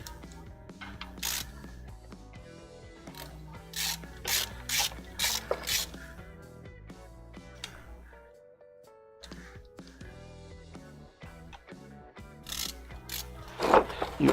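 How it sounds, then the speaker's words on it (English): A bendy ratchet wrench clicks as it turns bolts, with quick runs of ratcheting in uneven bursts and short pauses. The sound is close and fairly quiet. "I'm actually going to get the ratchet. It'll make it faster."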